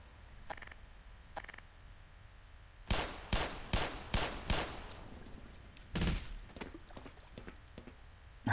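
Gunfire in the Black Mesa video game as enemies are shot: a couple of faint early shots, then a rapid string of five or six loud, punchy blasts, a pause, and one more heavy shot.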